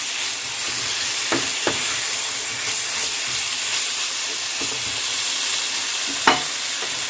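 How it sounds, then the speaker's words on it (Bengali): Pre-fried potato and pumpkin pieces are sautéed with spices in a pan, producing a steady sizzle with scattered sharp scraping taps from stirring, close and unbroken throughout. "আলু আর কুমড়োটাকে এবার সমস্ত মশলার সঙ্গে কষে নেবো"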